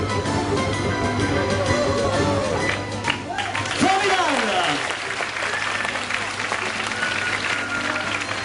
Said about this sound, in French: On le raccompagne sous le chaleureux applaudissement, Igor.